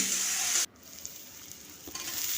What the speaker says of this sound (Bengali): নুন দিয়ে দিচ্ছি দিয়ে একটুক্ষণ ভেজে নেব